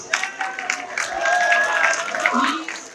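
Audience applause at a university convocation ceremony in a hall, steady clapping from a crowd with voices and an announcer's speech over it, moderately loud throughout.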